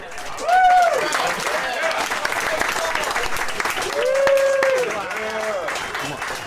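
Applause from a crowd at a campaign kickoff rally after a speech, steady clapping under voices and cheering that swells twice before tapering.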